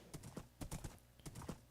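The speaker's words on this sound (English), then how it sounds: "He's a faster horse" Horse hooves clip-clop in a video game, a faint, quick run of irregular hoofbeats in small clusters, close but quiet, with no talk over them.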